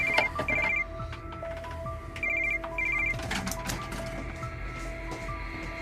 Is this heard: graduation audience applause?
no